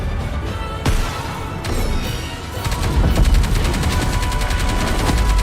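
Rapid automatic gunfire from the video game Nikke rattles in dense bursts, building into a continuous loud fusillade of sharp repeated shots.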